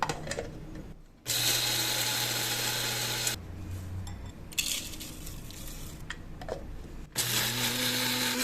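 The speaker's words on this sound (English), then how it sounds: "you can make oat flour at home without any problem with the help of a coffee grinder, a food processor, or even a blender" Blender grinding oats into oat flour for Christmas cookies: loud, close, whirring bursts that start and stop several times, with quieter rattling between runs and no speech.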